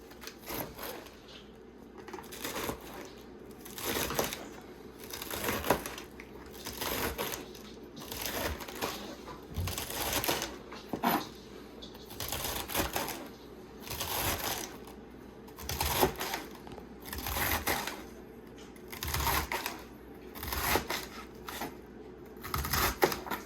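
Knife chopping food into small pieces on a board for a Dorito taco salad, a long run of quiet, rhythmic bursts of cutting taps and scraping, close and soft with no voices.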